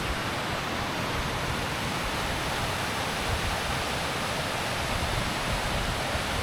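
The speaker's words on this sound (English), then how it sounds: "This little cascade here." A small waterfall cascade at Living Waters Retreat rushes with a steady, dense hiss of falling water. The sound is continuous and fairly close, with no voices over it.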